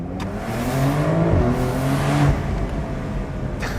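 A Porsche 911 Carrera convertible with a forced-induction engine accelerates hard, its raspy exhaust note rising steadily and sounding close and loud throughout, with no talking.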